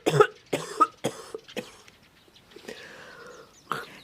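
A person suspected of tuberculosis who is coughing up green phlegm gives a run of about five harsh, wet coughs at close range. A raspy, wheezy breath follows, then one final cough.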